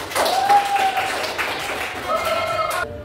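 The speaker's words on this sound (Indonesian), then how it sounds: "Beri tepuk tangan semuanya" A classroom of students clapping together during a micro-teaching lesson, a short burst of applause with voices mingled in before it cuts off.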